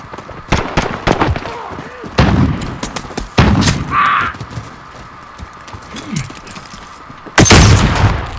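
Gunfire in the video game Modern Warfare: sharp scattered shots and bursts, some loud and close, with a heavy final volley, plus brief voices in between.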